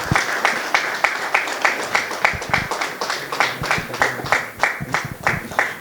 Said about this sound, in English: Warm applause to them.